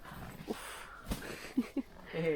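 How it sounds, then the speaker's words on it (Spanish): Several short yips and whimpers from a small dog come in brief bursts, with people talking softly around them. "Perrito de nuestros vecinos"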